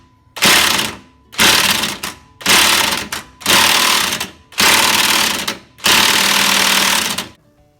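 An impact wrench on a stuck nut and bolt fires six loud, close bursts of rapid hammering, each lasting about a second with short gaps between, and no talking.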